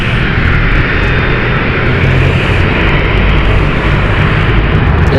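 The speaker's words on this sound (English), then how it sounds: "So that is the ignition started there of the aircraft" Aircraft engine spinning up at London City Airport, a loud, steady broadband roar with a low rumble that holds constant throughout, no voices over it.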